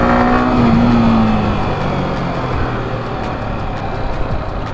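A push-started motorcycle engine with a low battery runs loud and close, a steady rough drone with an early rising tone that settles into an even idle-to-cruise rumble.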